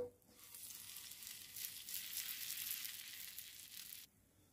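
Buttered sandwich bread fries butter-side down in a hot pan, giving a steady, close crackling sizzle that swells for about four seconds and then cuts off abruptly.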